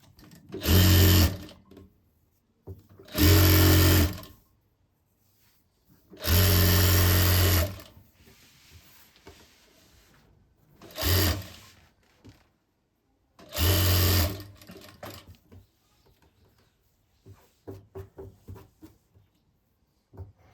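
A sewing machine stitches the curve of a lined sleeve-cut blouse in five short, loud, close bursts separated by quiet gaps, with faint handling clicks between runs and no speech.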